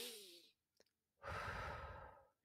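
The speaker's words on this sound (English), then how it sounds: "take 3 deep breaths while having your eyes closed" Deep breathing during a meditation, a soft exhale followed by a slow, airy inhale, faint and close with no other sound around it.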